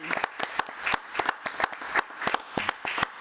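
Scattered applause at a committee meeting for the superintendent, several people clapping in a loose, uneven rhythm, near and distinct in a quiet room.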